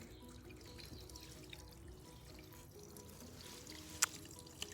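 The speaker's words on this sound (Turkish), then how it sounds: "Çeşmeden de su akıyor." Tap water running steadily while fish are cleaned at an outdoor fountain, a faint continuous trickle with one sharp drip-like tick near the end, no voices.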